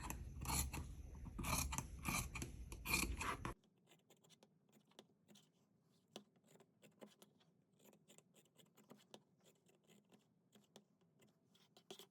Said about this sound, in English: now that these are sewn, we are going to trim down the seam allowances.